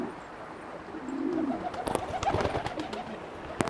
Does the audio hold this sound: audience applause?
no